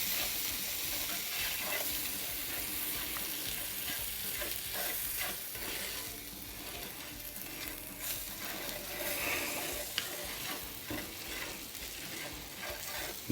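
Breadcrumbs with zucchini and squash gently sizzling in a pan on residual heat after the flame is off, a soft continuous frying crackle with occasional stirring scrapes, fairly quiet and without talk.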